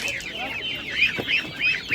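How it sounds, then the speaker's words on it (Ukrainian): A large duck at an animal market in Ivano-Frankivsk Oblast gives a run of close, repeated nasal calls, about four in quick succession. "Качка дуже гарна, велика качка."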